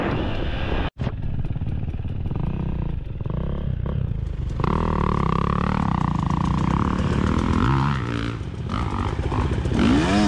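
A dirt bike engine snarls and revs through hill climbs on off-road trails at Durhamtown, loud and near with rising throttle bursts, clattering and brief dips in the sound.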